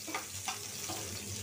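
Chilies frying in a pan for a hilsa fish mash make a quiet, steady sizzle with a couple of brief scraping stirs, low and close.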